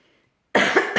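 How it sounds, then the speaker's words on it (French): A single sharp, close cough from someone speaking at an evening online workshop-conference, bursting from silence with a brief second catch near the end. "je tousse"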